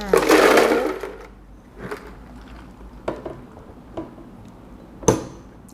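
Ice cubes tipped into a container for an iced mint lemon espresso, a loud clattering tumble at first, then a few sharp isolated clinks and knocks, close by, with no talk.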